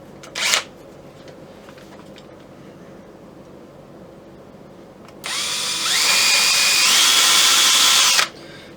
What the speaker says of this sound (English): I can just let the wood guide the drill down through there.